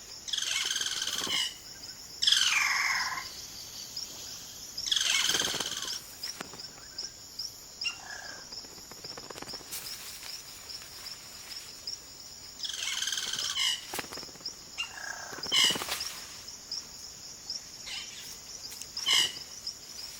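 Cacique birds in the Amazon rainforest give a series of loud, varied whistling and chattering calls in bursts, over a steady high-pitched insect drone.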